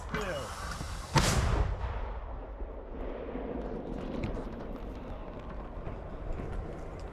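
A single heavy mortar blast booms near the start and its rumble trails away, followed by steady low outdoor noise from a frontline firing position.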